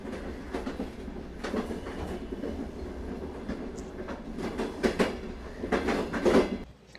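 A cartoon train runs steadily with a rolling clickety-clack of wheels on rails, moderately loud and continuous, swelling near the end before cutting off abruptly; no talking.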